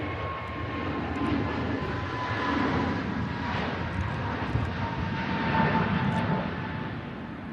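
A Pegasus airliner departing Manchester Airport gives a steady, moderately loud jet roar that swells and holds throughout, with a faint whine riding on top.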